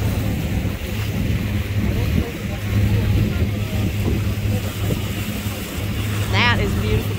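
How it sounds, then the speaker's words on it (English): Boat engines of a large fleet of motorboats and pontoons drone steadily over wind and water noise near Crab Island, Destin, with a brief high whistling sweep near the end; continuous and fairly close. "This is a huge fleet of boats."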